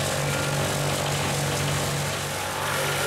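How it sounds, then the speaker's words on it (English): A wood chipper grinding tree branches into mulch, a loud, continuous close-up roar with a steady engine hum that holds without a break. "They're feeding branches into the chipper here."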